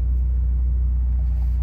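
A boosted Honda Prelude cruises at night, heard from inside as a loud, steady low engine rumble and drone without noticeable revving, alone with no talk.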